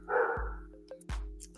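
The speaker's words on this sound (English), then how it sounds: "that's my neighbor's dog." A neighbor's dog barks twice in sharp, separate bursts, loud and fairly near, over a steady low hum in a quiet indoor room, with no talking.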